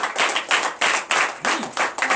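A congregation claps in rhythmic bursts at a night deliverance and prophecy church service, about eight loud, close group claps in a steady beat with no talking.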